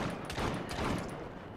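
Gunfire in the Assassin's Creed Syndicate video game: a few fairly faint, muffled shots crack over a dense background of game noise.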